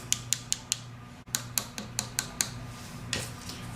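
A dry acrylic nail is tapped, giving a quick series of sharp, light clicks in an uneven rhythm, close and fairly quiet, with a brief pause partway through.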